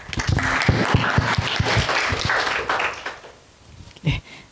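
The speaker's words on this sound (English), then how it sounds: "Ladies and gentlemen, please give Dr. Wen Qianlin a round of applause" Applause at a medical symposium for a speaker on Trodat scan imaging, a burst of clapping with some sharp individual claps that fades out after about three seconds, followed by a brief noise.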